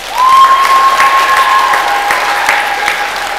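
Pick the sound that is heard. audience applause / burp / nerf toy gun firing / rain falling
audience applause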